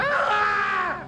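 A man screams in a horror film, one loud, strained, rising and falling cry lasting about a second, close and alone.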